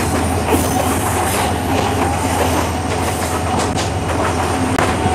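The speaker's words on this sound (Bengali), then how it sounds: "শহরের বুক চিরে বয়ে যাচ্ছে এই ট্রেন, আর সেই ট্রেনের ছাদের উপরে আমরা বসে আছি" A moving train heard from its roof while rolling through a city: loud, continuous rumble and rattle of carriages with rhythmic wheel clatter and occasional metallic squeal, no talking.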